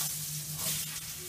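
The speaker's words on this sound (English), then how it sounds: "Put the potato in the pan" Potato pieces for lomo saltado sizzle steadily in a hot pan alongside frying meat, a constant close hiss with faint crackles.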